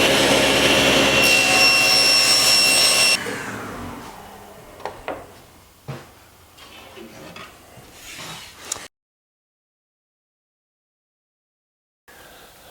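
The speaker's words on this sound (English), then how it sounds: "you've certainly seen me cut plywood on the SawStop before" A SawStop table saw cuts plywood with a loud, steady whine for about three seconds. It then stops, and scattered knocks and handling sounds follow before silence.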